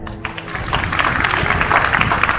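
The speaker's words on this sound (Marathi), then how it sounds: "आता तुम्ही खरं बोलता म्हणून जोरदार टाळ्या." Audience applause breaking out at an outdoor spiritual discourse during a tree-planting procession, a steady, dense wash of many hands clapping together that swells slightly and holds for a couple of seconds, fairly close and loud.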